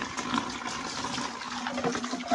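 Steady rushing water pours continuously over a dog during its bath for a couple of seconds, close by and fairly loud, with no voices.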